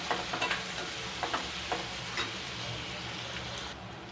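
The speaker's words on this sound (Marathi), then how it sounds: "आणि कांदा जरा एक 2-3 मिनटं परतून घेऊया चांगला" Finely chopped onion sautés in a pan for upma, a steady sizzle broken early on by a quick run of spatula scrapes and taps, then settling into even frying.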